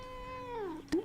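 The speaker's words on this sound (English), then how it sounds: "Don't meow at me like I did something wrong." A large, fat house cat meows close by, one drawn-out meow that bends downward, followed by a short, sharper chirp at the end.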